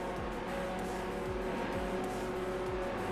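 A car engine in the Hot Wheels World Race video game drones loudly and continuously with a gritty, menacing tone, as repeated whooshing passes sweep through.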